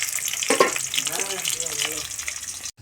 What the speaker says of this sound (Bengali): এই যে দেখো আলু ভাজা চলছে।